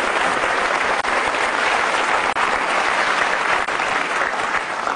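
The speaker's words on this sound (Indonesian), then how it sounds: "Kita kasih tepuk tangan sekali lagi, Mbah Tejo." A television talk-show studio audience applauds loudly and continuously, a dense wash of clapping that holds steady throughout.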